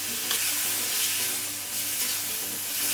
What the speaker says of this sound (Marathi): गॅस लावलेला आहे मी परत आणि आता मी परत ढवळून घेते